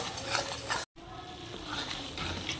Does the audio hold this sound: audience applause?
no